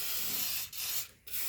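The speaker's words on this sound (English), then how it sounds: "we're going to get up here and spray it right where Mercedes would spray it" Zinc coating is sprayed inside the body of a 1985 Mercedes 300TD wagon: a close, loud, steady hiss of spray, briefly cut off twice in short pauses before resuming.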